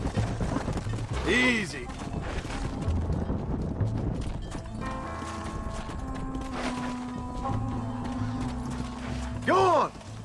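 Horses' hooves clip-clop while a herd is led into a pen in the video game Red Dead Redemption, with two loud horse whinnies, one near the start and one at the end, over steady ambience and a brief spoken word.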